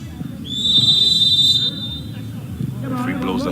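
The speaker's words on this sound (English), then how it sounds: "Referee blows the whistle again." Referee's whistle at a regional colts football match, one sustained shrill blast lasting about a second over crowd murmur and commentary talk.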